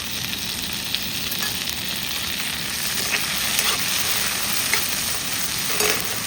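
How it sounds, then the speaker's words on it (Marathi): Tomatoes and onion fry in a clay pot with a constant close crackling sizzle. Occasional light scrapes of stirring sound over the frying, and no one talks. "यामध्ये मी अगोदर टोमॅटो टाकून घेणार आहे"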